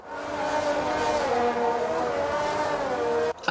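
Formula 1 race cars in the F1 2019 video game at Baku, Azerbaijan, roar past in a sustained, loud engine whine with shifting pitch as they overtake, cutting off abruptly near the end.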